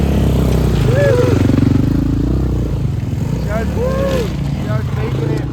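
A Honda CRF dirt bike engine drones and revs on a hill climb, a loud continuous motor with rising and falling pitch, with people talking and cheering over it.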